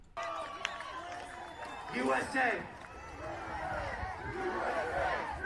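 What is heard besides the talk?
crowd cheering at a rally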